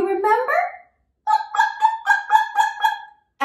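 A voice imitates a chicken, first with a rising cluck-and-crow phrase, then after a short pause a string of about six rhythmic clucking bawks, close and clear with no other sounds.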